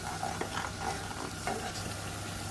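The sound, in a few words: spice masala being roasted and stirred in a pan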